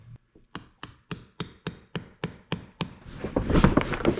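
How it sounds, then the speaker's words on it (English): A heavy hammer strikes a spur grommet installation tool on sailcloth while a boat sail is built, landing about ten sharp, evenly spaced blows close by, followed by a burst of louder, rougher handling noise. "I brought a heavier hammer."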